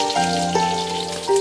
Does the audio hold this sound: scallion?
yes